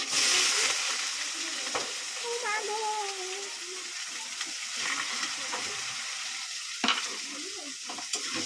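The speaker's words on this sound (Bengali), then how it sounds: "এখন দিয়ে দিচ্ছি পেঁয়াজ" Onions drop into a hot pan and fry with a continuous bright sizzle and stirring scrapes, while a voice talks briefly over it and a few sharp clanks of utensils stand out.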